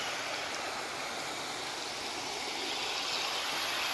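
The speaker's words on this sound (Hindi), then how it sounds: "बर्फ का पानी आ रहा है पहाड़ का ऊपर से।" Snowmelt from the mountains runs through a garden stream in Srinagar, Kashmir, giving a steady, even rush of flowing water with no breaks and no voices.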